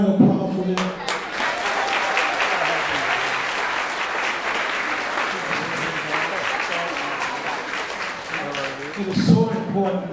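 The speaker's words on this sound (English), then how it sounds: "Can I get another round of applause for them?" Loud, dense applause from an audience at a Juneteenth celebration, continuous clapping throughout with a few voices rising at the start and end.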